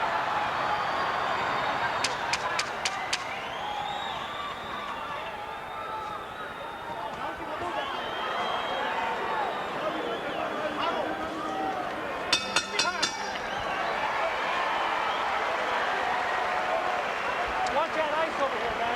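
A boxing arena crowd at the De La Hoya vs Castillejo fight rumbles with a sustained, loud roar of massed voices that rises and swells like chanting, overlaid by ringside commentary, with brief bursts of camera-shutter clicks.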